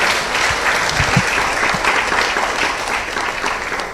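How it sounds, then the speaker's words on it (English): An audience at a hospital's fifteenth anniversary celebration breaks into a full round of applause, steady and dense throughout, with a few low knocks underneath. "truly they deserve a huge round of applause for the kind of work that they have done"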